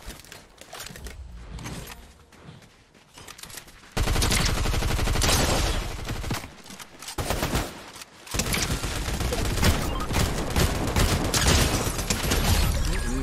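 Gunfire in Fortnite comes in rapid automatic bursts and fusillades, sparse for the first few seconds and then dense and loud. The shooting runs in long sustained stretches with brief pauses between them, and no one talks over it.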